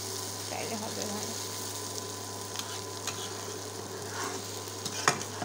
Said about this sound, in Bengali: একটু পর পর ভাজিটাকে নাড়লে তাহলে হবে ভালো।